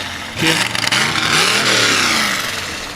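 A truck from the Roane County Alliance rolls past at the 2021 Kingston Christmas Parade, its engine rising loud and close with a revving surge, then holding a steady mid-pitched drone as it passes.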